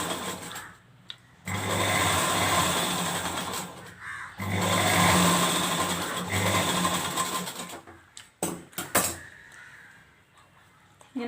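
A sewing machine stitches a lehenga dress in a home tailoring lesson, running in two long steady bursts with a short pause between, then stopping for a few quick short runs and handling noises.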